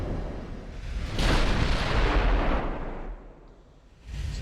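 15-inch battleship guns fire in a World War II naval battle game with a deep rolling boom that swells and fades over a few seconds. A second blast begins at the end.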